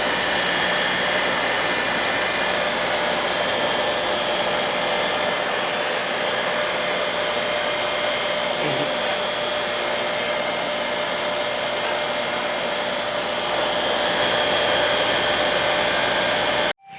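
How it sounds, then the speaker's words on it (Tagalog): A 2HP Lucky PRO centrifugal water pump's electric motor runs with a loud, steady whirring hum and whine, unbroken and close for the whole stretch before cutting off abruptly at the end. "Pwede na natin ma-testing ang motor sa pagtakbo, para magkaroon ng init ng kanyang katawan para tuluyang matuyo ang loob"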